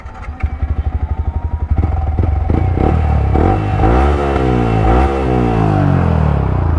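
A Yamaha R15 V3 motorcycle with an Akrapovic exhaust idles in a loud, pulsing lope, then is revved repeatedly in first gear, the engine note rising and falling in sharp, raspy sweeps; close and loud with no talking.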